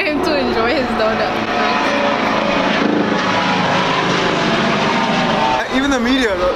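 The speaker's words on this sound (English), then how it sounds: "We got helicopters flying overhead." Aircraft engines drone overhead in an outdoor setting, a continuous loud hum under almost constant talking from several people.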